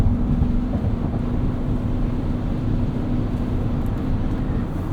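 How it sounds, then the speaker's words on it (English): 2021 Toyota Highlander Hybrid accelerating onto a highway in winter, steady interior road and wind rumble with a faint hum and no talk. "All right, getting onto the highway here."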